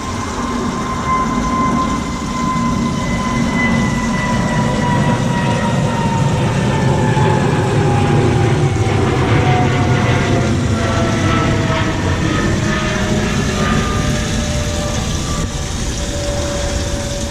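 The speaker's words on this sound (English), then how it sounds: "I'll wait for the airplane to fly over in a second" An airplane passes overhead above an outdoor aquaponics garden, a loud, steady broadband roar with a slowly falling drone that fills the whole stretch without any talk.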